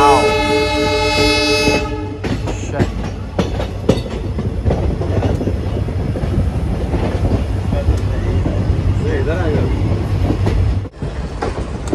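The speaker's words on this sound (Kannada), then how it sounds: "ಟ್ರೈನ್ ಇಷ್ಟು ಫಾಸ್ಟ್ ಓಡ್ತಿರ್ತದೆ ಈ ರೇಂಜ್ಗೆ" A passenger train runs fast near the Dudhsagar waterfalls, opening with a loud sustained horn blast, then a steady close rumble and rattle of the moving carriages with faint voices mixed in.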